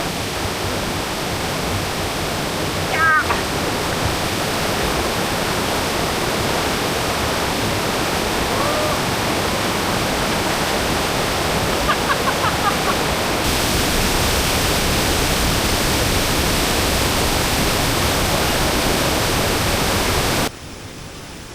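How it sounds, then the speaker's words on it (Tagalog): Signal Falls in Mariveles, Bataan, pours as a loud, steady waterfall, a dense, unbroken roar of rushing water that runs close and continuous with no voices over it. "ito ang Signal Falls ng Mariveles, Bataan"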